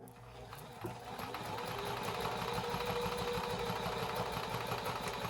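A threaded Domestic model 1505 sewing machine runs steadily up close, a continuous loud motor hum and rapid needle clatter that starts soft and holds even throughout.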